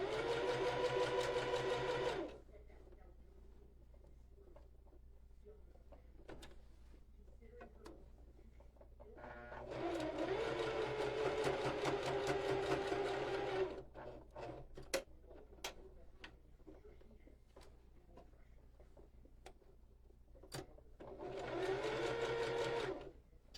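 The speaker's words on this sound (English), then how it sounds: "I'm going to top stitch as close as I can to the edge so that I don't close that hole" A sewing machine top stitches close to the edge of a fabric water bottle holder in three loud bursts of rapid running stitching, separated by quieter pauses filled with faint ticks and handling.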